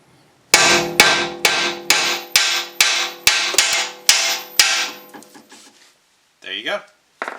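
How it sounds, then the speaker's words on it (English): A very large, heavy hammer strikes a BMW E46 tie rod end about nine times in a steady rhythm, each loud metallic clang ringing briefly, followed by a few quieter knocks and a short burst of clatter near the end. "Keep whacking it till it drops free."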